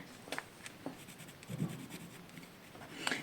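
A wooden graphite pencil shades on paper in quiet, close scratchy strokes. They come in short irregular bursts with soft rubbing between them, and no one speaks.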